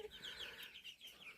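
Golden Laced and Cornish Cross chickens cluck softly in a farm coop, giving low, faint, continuous murmuring calls with a few higher chirps.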